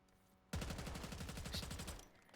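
Rapid automatic gunfire from a Call of Duty weapon in a continuous burst of evenly spaced shots that starts abruptly, holds loud and steady for about a second and a half, then cuts off.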